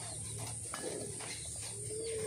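Pigeons cooing outdoors while flying over a home loft, a soft steady call over constant background hiss and faint chirps, with no voices.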